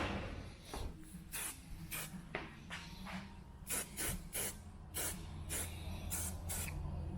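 A spray paint can lays light coats onto a truck dash in short hissing bursts, about a dozen quick sprays with brief pauses between, close and fairly soft.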